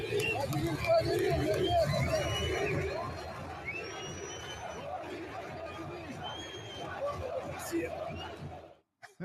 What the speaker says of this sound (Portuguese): a torcida do Vasco gritando o nome do Diniz e tudo hoje em São Januário